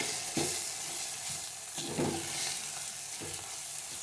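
Red masala and onions fry in oil with a steady, close hiss, while a spoon stirs and scrapes the pan every second or so.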